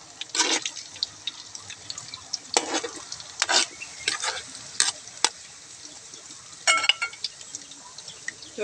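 Bananas frying in a pan of oil for sweet Filipino banana cue: soft bubbling and sizzling with intermittent crackles and spatters, close and fairly quiet, with no voices.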